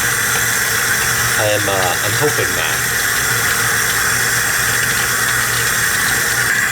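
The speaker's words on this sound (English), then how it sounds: "we'll just fill it the rest of the way up with hot water from the tap" Hot water running from a tap into a container for dyeing wool blankets, a loud, constant rushing stream with a brief spoken remark over it partway through.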